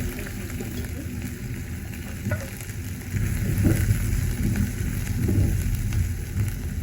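Onion with cumin sautés in hot oil for a sprouted-bean usal, making a dense, close frying sizzle. The sizzle swells louder partway through as it is stirred, with a low background hum.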